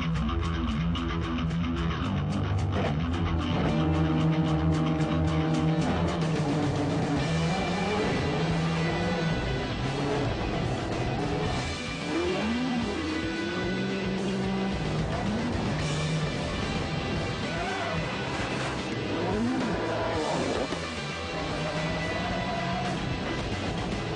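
Ford Focus WRC rally car driven by a Finnish driver on the Algarve stages of Rally de Portugal, engine roaring continuously with gear changes and hard braking, loud and close throughout with no talk.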